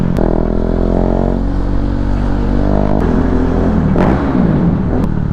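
A car passing on an evening street in Quezon, a loud close engine drone with rising and shifting tones, a few sharp clicks and clatters, then a brief surge as it goes by.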